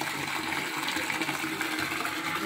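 Water pours steadily, a dense continuous splashing rush that stays at an even loudness throughout.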